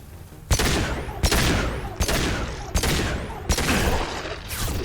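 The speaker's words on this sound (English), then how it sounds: "Taking heavy fire!" Heavy gunfire in a video game, five loud close bursts of rapid shooting, each striking hard and rattling on for a moment before the next, with no talk over it.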